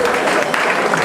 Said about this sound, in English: In the name of Jesus, I want you to clap your hands and lift up your voice